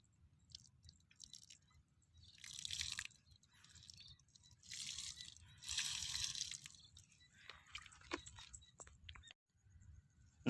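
Wet squishing and dripping as water soaks a mix of organic fertilizer and coriander, with soft bursts of crackly moisture and drips over a low background hum, fairly close and quiet.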